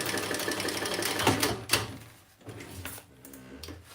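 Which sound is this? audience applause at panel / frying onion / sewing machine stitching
sewing machine stitching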